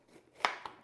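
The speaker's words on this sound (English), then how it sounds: "I'm just going to dice up the capsicum." A kitchen knife dicing capsicum, with two crisp, close chopping strikes in quick succession over a soft background.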